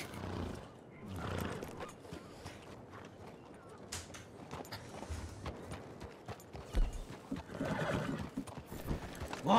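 A horse neighs and whinnies while hooves clip-clop in Red Dead Redemption 2, loud and close, with bursts of whinnying and scattered hoof thuds mixed with game ambience and occasional voices.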